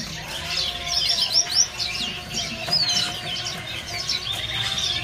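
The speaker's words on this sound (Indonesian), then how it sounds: "Di kios ini ada burung kenari ya." A canary sings at a bird market kiosk among other caged birds, with bright, rapid chirps and trills rising and falling close by and a faint steady hum of the market behind.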